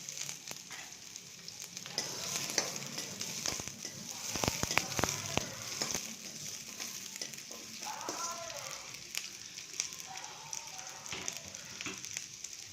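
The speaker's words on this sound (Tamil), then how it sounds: "எண்ணெய் காஞ்சதும் 100 கிராம் வெங்காயம் போட்டு கொஞ்சம் வதக்கணும்" About 100 grams of small onions sautéing in roughly three spoons of hot oil in a pan, a soft continuous sizzle and crackle broken by a brief run of scraping strokes, quiet and close.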